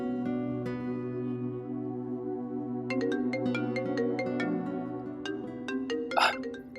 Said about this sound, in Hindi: फोन आया, मैं रिसीव करके आता हूँ।